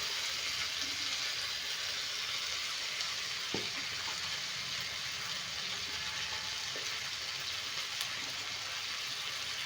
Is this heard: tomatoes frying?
yes